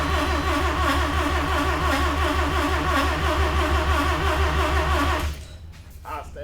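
A 1982 Mazda RX7 rotary engine runs on manual choke after a cold start, a loud, steady, pulsing idle that drones close by for about five seconds before cutting off abruptly into quiet.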